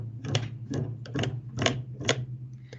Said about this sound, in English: I'm going to use another pencil to strum it.